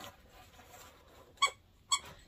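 Plush cupcake dog toy squeaking twice in quick succession, two short sharp squeaks near the end, close and clear over a quiet background.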